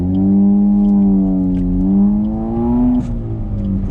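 A Suzuki Swift Sport engine with a manual gearbox pulls under acceleration, a steady, loud harmonic drone that climbs gradually in pitch, dips briefly around a gear change near the end, and carries on alone without talk.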